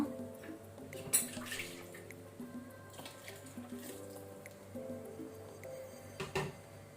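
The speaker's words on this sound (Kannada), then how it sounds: "ಜಾರಿಗೆ ಸ್ವಲ್ಪ ನೀರು ಹಾಕಿ ಅದನ್ನು ಸಹ ಸೇರಿಸಿಕೊಳ್ಳುವ." Water is poured and splashes quietly into a pot of cooking ash gourd and clam curry, with soft liquid sloshing and a few faint clinks, no talking.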